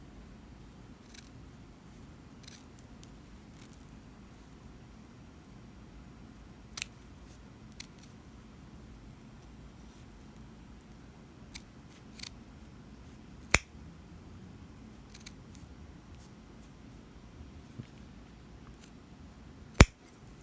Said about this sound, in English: this is where we want to trim this seam allowance out